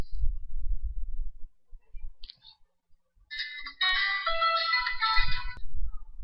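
A mobile phone rings after a call is dialed to it with the ATD command from a GSM modem, a single burst of ringtone with warbling tones lasting about two seconds, preceded and followed by low rumbling handling noise.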